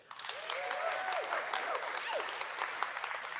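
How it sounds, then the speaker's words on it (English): A crowd applauds a high school team at the close of their final presentation, a steady wash of clapping rising quickly and holding throughout, with a few voices calling out faintly underneath. "Rounds of applause"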